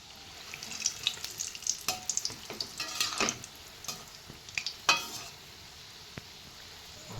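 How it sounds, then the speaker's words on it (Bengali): Ripe mango fritters frying in oil, a quiet sizzle under repeated light clinks and scrapes of a spatula turning them, close but fairly soft. "এভাবে লাল লাল করে ভেজে নিতে হবে"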